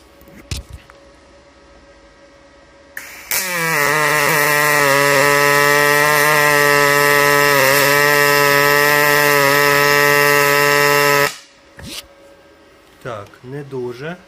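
A Magnum MIG 222 semi-automatic welder lays a MIG bead at about 97 A and 22 V on 3 mm metal, giving an eight-second continuous loud buzzing hum with a sharp start and stop, bracketed by brief talk.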